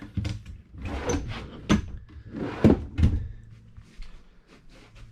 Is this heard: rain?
no